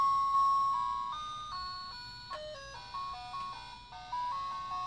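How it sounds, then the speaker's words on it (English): A red toy musical bear phone plays Mary Had a Little Lamb as a thin, electronic beeping melody, one clear note after another at a steady pace, close and alone. "This is Mary Had a Little Lamb."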